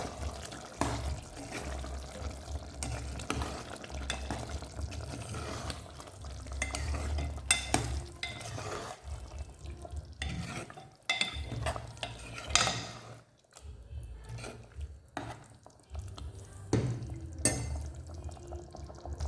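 Chicken curry being stirred after half a cup of yogurt goes in for biryani, a steady scraping and churning with soft sizzle and occasional clinks of a utensil against the pot, alone without talk.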